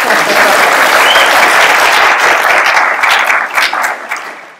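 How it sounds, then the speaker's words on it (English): Enthusiastic applause from a comic convention crowd, dense and steady clapping that tapers off near the end. "round of applause for everyone"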